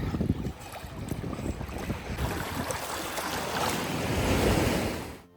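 Surf washes onto a sandy beach in Gran Canaria, a broad rushing roar that builds and swells toward the end, mixed with gusty wind buffeting the microphone and no voices.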